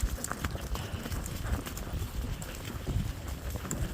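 Horses' hooves clip-clop on a hilly outdoor track used for working the horses, with a steady stream of close, uneven steps and gusts of wind buffeting the microphone.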